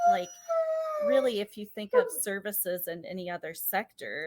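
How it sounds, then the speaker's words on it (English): A pet dog howls with a long wavering cry at the start, then keeps yipping and whining faintly beneath a person's ongoing speech. "that's my dog barking"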